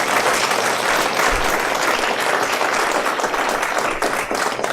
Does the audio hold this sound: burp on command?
no